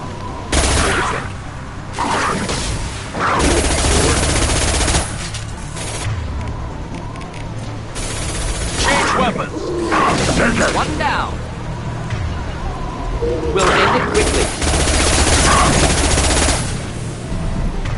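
Sustained bursts of automatic gunfire from the Mass Effect 2 video game rattle loudly and repeatedly in clustered volleys, with voices talking over the shooting in between.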